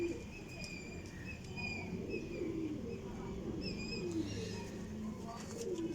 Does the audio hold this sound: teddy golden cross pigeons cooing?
yes